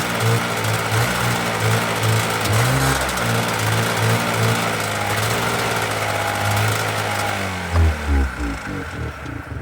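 The engine of an old family snowmobile runs steadily and close by, with a rough, pulsing small-engine drone that barely changes in level. Near the end it revs briefly with a few throttle blips, and no voices are heard.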